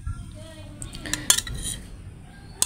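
Cutlery and dishes clink sparsely at lunch over a home-cooked meal of boiled egg, a piece of fish and potato-eggplant curry, with a few sharp metallic taps standing out against a quiet room.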